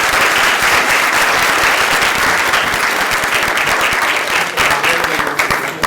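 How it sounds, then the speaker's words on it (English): Conference audience at a panel session on power privatization in Nigeria breaking into loud, sustained applause, dense clapping that stays strong and then begins to taper near the end. "I would like to give a big round of applause to our..."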